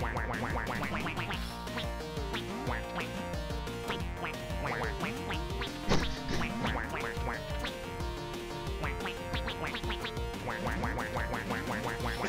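Rapid, repeated cartoonish duck quacks from a video game rattle on continuously at a steady moderate level, dense and overlapping throughout.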